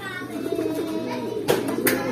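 Pigeon cooing at the trapdoor of a pigeon loft, steady low murmuring coos close by over a faint background, with a couple of brief louder bursts.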